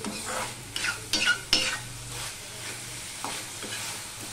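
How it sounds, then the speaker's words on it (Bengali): Pumpkin and bitter gourd are stirred in a pan to cook off remaining water, a soft steady sizzle broken by a few clattering scrapes of the utensil against the pan, close up. "আমি আরেকটু নেড়ে যেটুখানি জল আছে সেইটুখানিও শুকিয়ে নিচ্ছি।"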